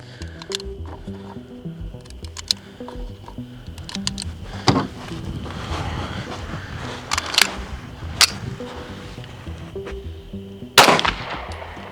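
A handgun fires 9mm 147-grain subsonic rounds at an outdoor range, giving a few sharp, spaced reports with the last one loudest.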